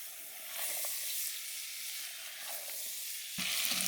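Tomatoes and chili sizzling in a hot pan at a jungle campsite, a steady bright hiss of frying that swells when more ingredients drop in near the end, close and alone without talk.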